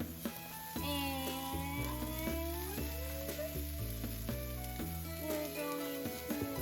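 Peeled, sliced carrots stir-frying in a pan give a steady sizzle beneath loud tonal background music, while a voice briefly talks over it.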